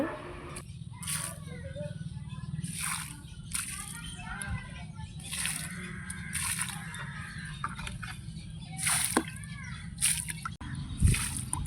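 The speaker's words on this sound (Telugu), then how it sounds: "ఈ విధంగా పెట్టేసి మొత్తం వాటర్ అయితే వేస్తున్నాయి ఇప్పుడు" Water is poured over freshly planted fig cuttings in garden soil, giving soft repeated splashing, dripping and sloshing close by, while children play and voices chatter in the background.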